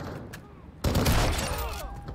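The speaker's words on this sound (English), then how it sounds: "You are taking effective fire." Gunfire in the video game Call of Duty DMZ erupts suddenly after a quieter stretch, a loud dense burst of shots that continues to the end amid game noise, with faint voices underneath.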